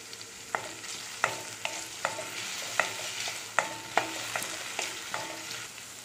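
Chopped chow chow and tomatoes fry in a pan with a soft, steady sizzle, broken by a run of sharp, regular clinks as a spoon stirs and knocks against the pan.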